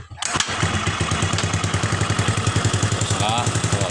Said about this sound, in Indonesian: Sekarang kita selah lagi.